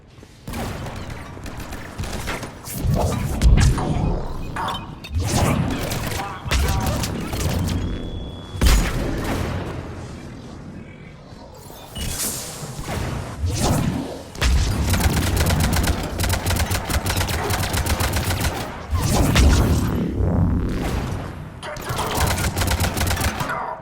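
Enemies open fire in a sci-fi shooter, with bursts of gunfire, booms and clattering mechanisms coming in dense, overlapping waves that run almost without a break.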